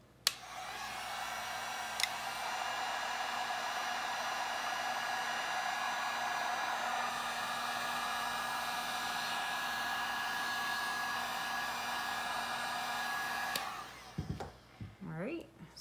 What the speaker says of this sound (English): I take my heat gun and I just blast the back just for a few seconds just to heat it up, warm up the resin a little bit